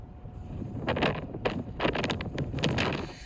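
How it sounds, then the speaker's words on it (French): Strong wind blowing across a mountainside, gusting and buffeting the microphone in rough bursts, loud and close, with some knocking thuds mixed in. "Il y a un vent de dingue."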